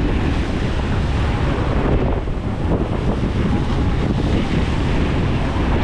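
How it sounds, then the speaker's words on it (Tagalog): Rough, continuous rush of water and wind buffeting a microphone, with waves sloshing and slapping against a boat nearby at a steady level and no voices. "tama ho ng tama ang alon."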